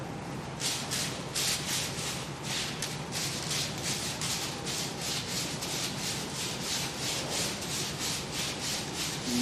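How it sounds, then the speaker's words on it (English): Rapid, steady back-and-forth rasping of a sandpaper block on wood, close up, with regular strokes continuing throughout. "You see the sawdust coming off of this now with the sandpaper."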